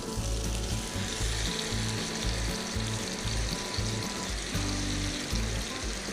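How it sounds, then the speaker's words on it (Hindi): Marinated beef liver fries in hot oil on a tawa over medium flame, a loud continuous crackling sizzle heard up close with bursts of spitting oil and no talking. "तो इसको हमने इतना फ्राई करना है कि ये कलेजी जो है ये ऑयल छोड़ दे।"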